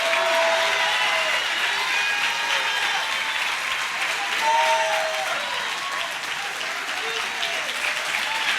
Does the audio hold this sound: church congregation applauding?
yes